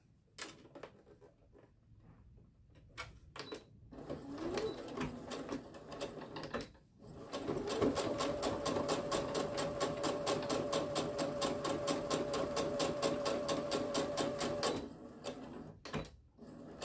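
Sewing machine topstitching along a fabric phone bag for a Christmas accessory, a fast steady needle chatter running continuously for several seconds after a few short starts and handling clicks, close and fairly loud.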